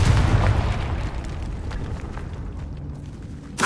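A Confringo fire spell explosion in Hogwarts Legacy, a loud booming burst at the start that rumbles and fades, followed by a fresh sharp pop near the end, without any voices.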